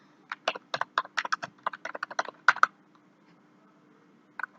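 Fingers tap on a computer keyboard while entering a stock group code in accounting software, producing a quick burst of about twenty crisp, close keystrokes, then a pause and one last key press, with no talking.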